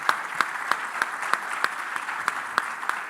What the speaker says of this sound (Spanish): Un aplauso por favor para nuestros panelistas.